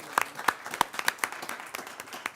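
Scattered applause from a modest group at a board meeting, distinct individual claps audible rather than a dense wash, fairly quiet and brief.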